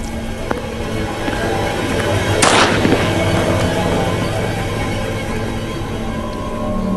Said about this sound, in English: Because he can hear shotgun.